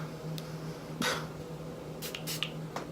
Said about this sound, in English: Let me go ahead and spray my primer.